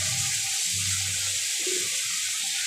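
Water added to a simmering low-oil fish curry, a continuous close hiss and gurgle of pouring liquid over low kitchen rumble, with no voices.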